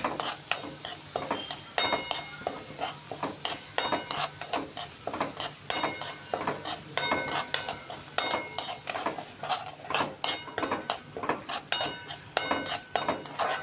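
Semolina is roasted in ghee for mango shira, with a spoon scraping and clinking against the pan in quick, repeated strokes over a soft sizzle, steady and close throughout.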